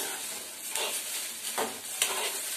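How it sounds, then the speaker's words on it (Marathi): Okra pieces sizzling and frying in a pan for a Malvani-style bhindi dish, a steady bright hiss with a few soft scrapes from stirring, close and alone with no talk. "तर एक 3-4 मिनिटं लागतात भेंडी भाजायला. आता ही होत आलेत भेंडी."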